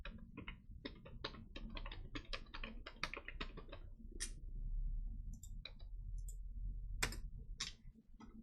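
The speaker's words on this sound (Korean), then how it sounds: "컨트롤 C 누릅니다." Rapid clicking of computer keyboard keys during spreadsheet work, a burst of close, crisp taps with short gaps and a few louder isolated clicks toward the end.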